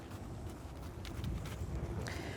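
A dressage horse being worked in at walk, its hooves giving soft, steady clip-clops that sit close to the microphone beneath a light wind rush.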